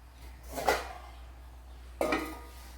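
Two clinks of a lid being set on a cooking pot of banana pulisseri curry, a short metallic knock followed by another a second later, close and fairly quiet against a faint hum.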